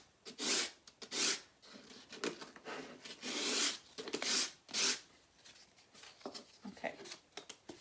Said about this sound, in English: So I'm just gonna sand this down a little bit.